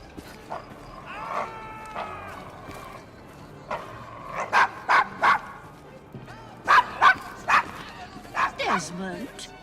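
A dog named Desmond barks in a Victorian London street scene from Assassin's Creed Syndicate, with clusters of sharp, loud barks and yips, some whimpering, mixed with people talking.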